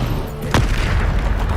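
Bombarda blasting spell from the Hogwarts Legacy video game, a single loud, close booming burst heard over dense game background noise.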